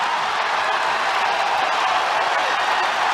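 A large Carver-Hawkeye Arena crowd at a Penn State vs Iowa college wrestling dual roars and applauds in a steady, loud, broadband wash that holds for the whole stretch.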